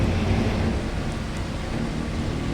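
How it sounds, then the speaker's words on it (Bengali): Heavy torrential rain pours down in a steady, dense wash, with a deep thunder rumble underneath through the whole short stretch, heard alone without voices. "সেই দিন মধ্যরাত থেকেই নামলো আকাশ পাতাল ভাসানো মুষলধার বৃষ্টি।"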